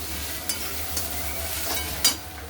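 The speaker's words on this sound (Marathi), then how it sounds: "व्यवस्थित मिक्स करून घेऊ।" Onion chutney with salt is stirred in a pan, a steady scrape of the spoon under a soft continuous sizzle, with a few sharper clinks against the metal.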